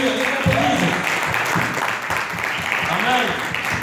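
A congregation applauds in a church to acclaim Jesus, a dense, steady patter of many hands sustained throughout with voices faintly mixed in.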